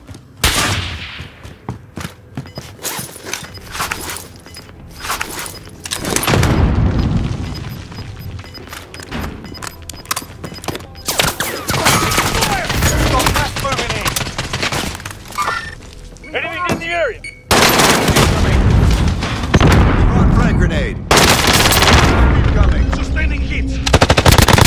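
Call of Duty Warzone battle with dense, loud machine-gun bursts, rapid gunshots and heavy booming explosions in overlapping waves, brief quieter gaps between volleys, with game voices heard over the fire.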